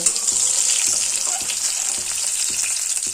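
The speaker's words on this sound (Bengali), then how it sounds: "গ্যাসের ফ্লেমটা হাইতে করে বেগুনটাকে দু মিনিট ভেজে নেব" Eggplant frying in hot oil over a high gas flame, a steady loud sizzle throughout with faint low clicks from the pan.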